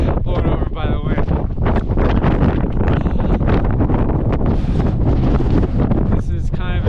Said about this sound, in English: I'm trying not to get blown over by the wind